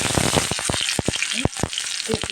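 Spice paste hits hot oil with cumin in a pan, a loud close sizzle broken by a run of sharp pops and crackles over a couple of seconds.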